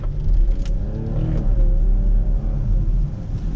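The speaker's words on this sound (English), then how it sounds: "Get a little acceleration here." A 2020 BMW X5 SUV pulling away on a drive at night, its engine note a steady low rumble with a rising hum as it accelerates, heard from inside the cabin without talking.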